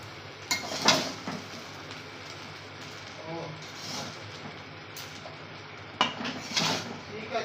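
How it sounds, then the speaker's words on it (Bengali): Fried rice being mixed with ghee in a pan, with several clanking scrapes of a utensil against metal arriving in short bursts. A person talks between the strokes. "আর একটু দিয়ে দেবো তার সাথে ঘি এখন সুন্দর করে মাখিয়ে নিতে হবে"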